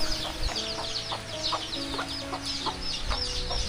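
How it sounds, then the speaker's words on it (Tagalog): Chickens cluck in short repeated calls, close by, over a steady farmyard background with a low hum. "Tapos ito yung manok na ating sasagol sa pansit."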